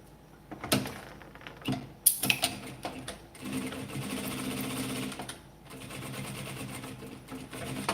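Sewing machine stitching colored fabric scraps into a small basket, running in several short bursts of rapid whirring with brief pauses and handling clatter between, close and moderately loud.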